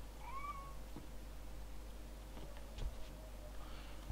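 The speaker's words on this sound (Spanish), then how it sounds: "¿Dónde cojones está el gato?" Cat meowing inside a Harry Potter video game at the Ministry of Magic: two short, fairly faint meows near the start over a low steady hum, followed by a few soft ticks and clicks.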